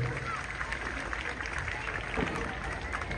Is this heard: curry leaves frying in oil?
no